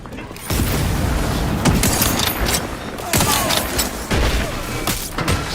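Heavy gunfire in a combat firefight in The Outer Worlds 2, with dense bursts, booms and shattering impacts rolling continuously and loudly, a voice talking briefly over the shooting.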